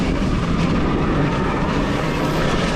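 Ultra Bee electric off-road motorbike riding through rough terrain: a loud, continuous rumbling rush of wind, tyre and chassis noise with steady rattling, close to the mic and without a break.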